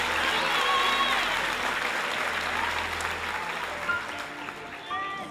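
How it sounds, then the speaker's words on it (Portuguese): Church congregation applauding, a dense, loud burst of clapping that gradually thins and fades, with voices talking over it. "Uma salva de palmas para esse povo que está lá fora."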